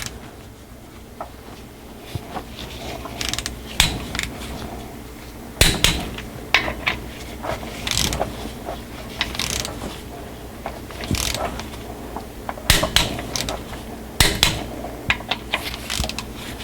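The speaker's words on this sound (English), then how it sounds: "So now we're gonna torque the bolt on this filter over here." A torque wrench tightening bolts on an Allison transmission during a filter and fluid change, repeated bursts of metallic ratcheting clicks with brief pauses and clanks between them, close and fairly loud without speech.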